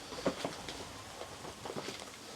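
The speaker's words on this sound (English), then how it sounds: "Literally getting rained on inside." Water drips and patters through the roof of an abandoned, flooded house, irregular soft taps scattered over a steady background hiss, close and faint with no voices.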